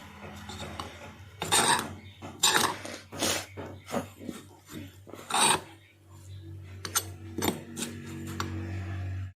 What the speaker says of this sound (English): Now I will mix it with the help of spoon.